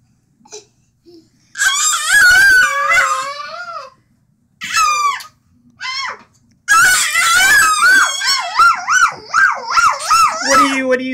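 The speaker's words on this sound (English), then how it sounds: "What are you screaming about?" A young child screams and squeals in bursts while playing in bed at home, loud, shrill and close, with short pauses between outbursts.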